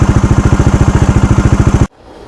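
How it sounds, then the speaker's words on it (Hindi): A Bajaj Dominar 400 motorcycle idles with a steady, loud, evenly pulsing exhaust thump, close to the exhaust and alone, then cuts off abruptly near the end. "जैसे कि आप स्क्रीन पे या आप ऑडियो पे सुन रहे हैं इसका एग्जॉस्ट नोट"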